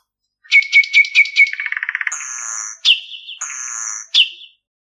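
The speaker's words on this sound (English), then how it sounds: "Nightingale." A nightingale sings alone and close: a run of bright repeated chirps, a rapid trill, then sustained whistled notes alternating with sharp upward-swooping calls.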